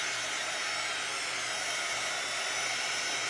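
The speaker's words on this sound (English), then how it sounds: "So I'm gonna hit it with the dryer." A quick dry tool hair dryer blows with a steady, loud, unbroken airflow whoosh and motor hum from start to finish, no voices.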